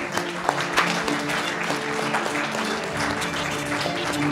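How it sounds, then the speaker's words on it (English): Audience applause fills a 2019 film festival award ceremony hall, a dense, steady wash of many hands clapping together, loud and sustained throughout. "Give him a big hand."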